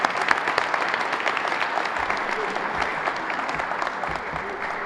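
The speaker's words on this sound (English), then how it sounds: "There we go, round of applause" A grant awards audience breaks into a steady round of applause, dense clapping from many hands sustained evenly throughout at close range, with no voices standing out.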